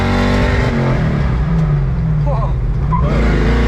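Supercharged NA Mazda Miata engine pulls hard with a steady, loud drone from inside the car, rising and falling through the run, while a passenger lets out a brief exclamation.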